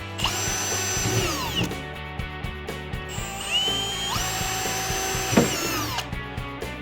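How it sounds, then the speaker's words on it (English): A power drill with a 5/16 bit whines steadily as it bores a hole during assembly of an Otter XT PRO X-Over sled, its pitch rising and dropping with changing load, with clicks and rattles of the tool. "you are going to drill a hole in these markings"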